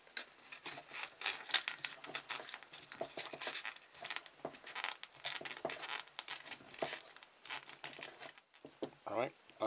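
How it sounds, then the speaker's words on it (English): A plastic strip with sticky tape is wound around the back axle of a rat trap toy car, making close, continuous crinkling and rustling with small tearing, crackly bursts throughout. "I shall now stick that onto the back axle and wrap it round."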